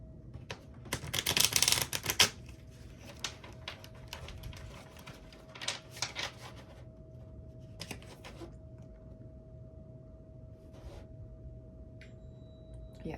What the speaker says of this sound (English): give it a good little shuffle again.